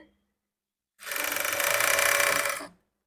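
A sewing machine stitches a folded blouse hem in one steady buzzing run of under two seconds, close and loud, starting and stopping abruptly after silence.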